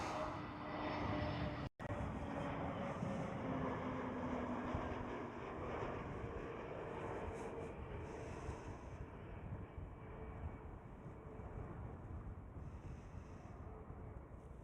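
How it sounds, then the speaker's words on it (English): EasyJet Airbus A320neo in Neo livery at Amsterdam Schiphol, its steady engine roar carrying across the airfield with wind buffeting the microphone; one abrupt dropout breaks the sound early, then the drone continues at a moderate level. "next one up is EasyJet's Airbus A320neo with the Neo livery"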